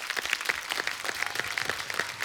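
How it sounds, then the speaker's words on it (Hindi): Applause from a TV comedy show studio audience, a steady wash of many hands clapping at moderate volume with no voices over it. "आपके लिए पहले तो तालियां।"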